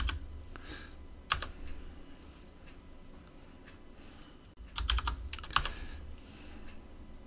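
Keys clatter on a computer keyboard as a Linux install command is typed on a Raspberry Pi 4 setup, with short bursts of clicking separated by pauses, close and moderately loud with no talking.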